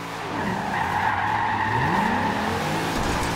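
In a drifting video game a car's engine revs as its tires squeal through a slide, a loud continuous screech with the motor's pitch swooping up and down underneath.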